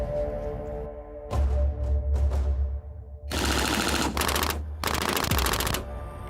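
Loud bursts of rapid gunfire hitting a car on a shooting range, several strings of shots with short gaps between, ringing sharply at close range.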